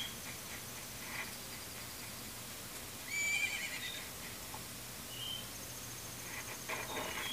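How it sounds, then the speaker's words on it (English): Epona the horse in Zelda: Majora's Mask gives a short whinny partway through, faint against a quiet ambient game background with no talk. "I hear my horsey"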